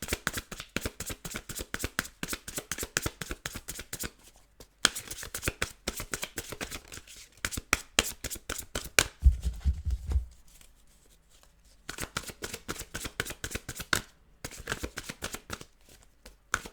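Tarot cards being shuffled by hand, quick bursts of crisp riffling clicks and flutters in repeated runs, close and fairly quiet, broken by short pauses and a soft low thump midway.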